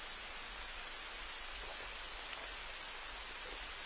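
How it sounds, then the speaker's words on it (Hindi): Steady rain falls in a continuous, even hiss across the whole stretch, with no voices and no break in the sound. "बारिश ही तो है"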